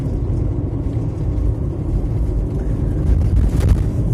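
Steady low engine rumble and road noise from a car climbing a snowy mountain road on the way to Trabzon, continuous and moderately loud with no talk.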